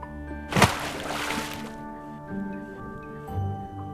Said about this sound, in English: The man took off all his clothes and jumped into the river.